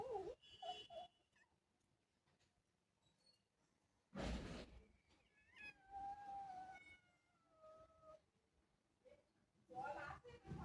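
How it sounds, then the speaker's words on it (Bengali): A kitten gives several thin, drawn-out meows in a quiet home setting, soft and close, while someone speaks gently nearby between the cries. "তুমি ম্যাও ম্যাও করতে পারো?"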